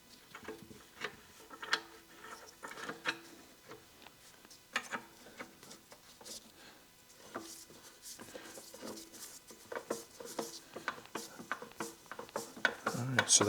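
A vintage Craftsman "Alien Head" planer's loose, backlash-prone mechanism being turned by hand, giving quiet, uneven ticking and ratcheting clicks in irregular bursts, close up.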